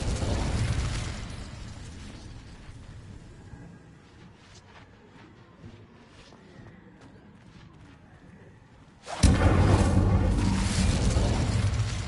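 A fire spell is cast in Hogwarts Legacy, a loud burst of whooshing flame, then quieter game ambience with small clicks, and a second heavy roaring blast near the end.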